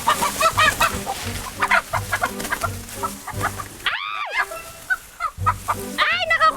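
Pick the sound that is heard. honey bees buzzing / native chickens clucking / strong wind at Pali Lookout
native chickens clucking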